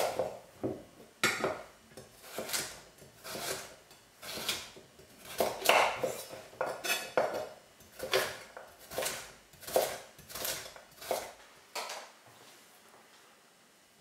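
A knife chops a carrot into small pieces on a board, a run of sharp, fairly regular taps with short pauses, close up, with no talking.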